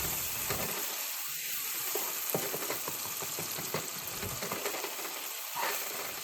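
Tomatoes sizzle steadily in a pot as the base for a beef stew, with a continuous frying hiss broken by occasional stirring clinks and scrapes, close and moderately quiet.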